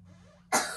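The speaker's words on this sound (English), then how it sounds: "That's you fake coughing." A child lets out a single short, forced cough, loud and close after a moment of quiet.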